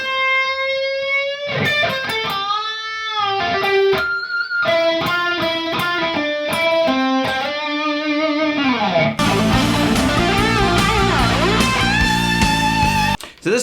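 Distorted electric guitar plays a solo opening phrase slowly, sustained bending notes with vibrato, then a denser run of notes ending abruptly; loud and close, no talking.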